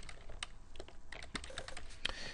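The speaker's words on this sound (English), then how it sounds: "We're going to type in whimsically bright" Rapid clicking keystrokes on a computer keyboard while entering text in Photoshop, a dense irregular run of close, crisp taps with no talking.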